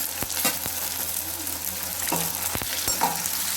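Green chilies and tomato sizzle in a pan for a mushroom fry, a steady crackling hiss broken by several sharp clinks and scrapes of a spoon stirring, close and moderately loud with no talking.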